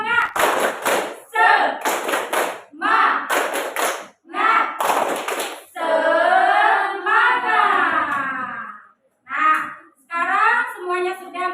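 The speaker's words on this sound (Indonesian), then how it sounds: "Tepuk semangat." A school class performs a rhythmic spirit clap, sharp bursts of group clapping in quick patterned groups alternating with chanting voices, loud and close in a classroom.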